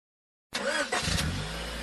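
A car engine starts after a short silence and revs briefly, then settles into a steady low rumble, close by and on its own.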